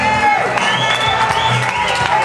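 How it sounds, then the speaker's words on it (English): Crowd cheering and clapping at a kids concert, a lively mix of shouts and applause with voices and some music in the background. "give Kelly a big round of applause."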